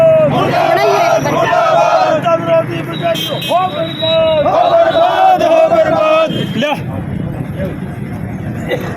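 Crowd of farmers protesting the budget, loud chanted slogans in rhythmic bursts with a lead voice calling out, outdoors with traffic noise.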